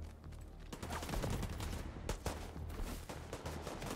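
Video game gunfire in The Division 2: rapid automatic bursts and scattered shots crackle continuously throughout, dense and fairly even in loudness.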